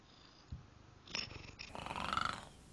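Large cat purring close up in a quiet room, a low rough rumble that swells and grows louder over the last couple of seconds after a soft bump.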